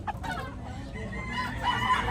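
A chicken clucks faintly at a distance against low background rumble.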